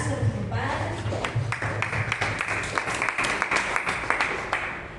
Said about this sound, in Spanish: Vamos a dar un fuerte aplauso a nuestro Padre.